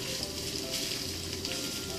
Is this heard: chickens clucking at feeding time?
no